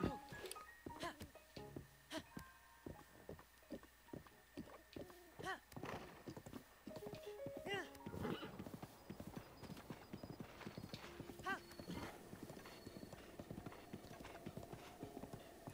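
Horse hooves clip-clop steadily in a quick rhythm while riding through Zelda: Breath of the Wild, with a whinny and other game sounds partway through, up close and clear.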